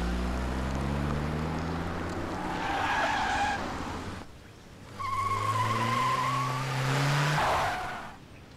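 A car speeds past on a road with tires squealing, its engine rising and fading twice as it approaches and pulls away, loud and close with no talk over it.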